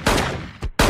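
Sharp cartoon-style gunshot effects ring out from inside a building, two loud close blasts about two-thirds of a second apart, with no talking.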